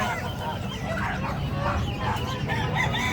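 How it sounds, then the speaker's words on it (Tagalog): Chickens cluck and a rooster crows amid busy, noisy background chatter, with the birds fairly close. "May mga manok."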